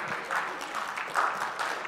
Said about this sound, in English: 10 people in here are clapping.